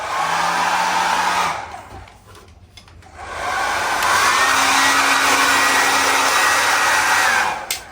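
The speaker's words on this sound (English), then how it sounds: "Now we're going to quickly just start heat gunning it again." A heat gun drying a plasterboard patch during a drywall repair blows with a loud, steady roaring hiss, dipping briefly midway before resuming at full strength, with no talking.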